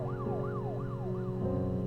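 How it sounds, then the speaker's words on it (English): A police car siren wails in a repeating rising-and-falling pattern, four sweeps in under two seconds, loud and steady over a low engine-like hum, with no talking. "this time there was like cop sirens and cop lights on it"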